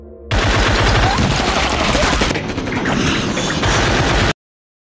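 Dense, continuous gunfire from a film battle scene between vampires and Lycans, with rapid automatic bursts and scattered shots blending into a loud, sustained barrage for about four seconds before cutting off abruptly.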